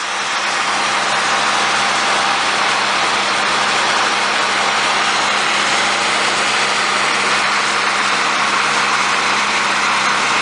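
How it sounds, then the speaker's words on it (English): A small pump runs without pause at a wastewater treatment plant beside an 8 ft AquaDam. It gives a loud, even mechanical drone with a low hum for the whole stretch and no talk. "You can see the little pump running."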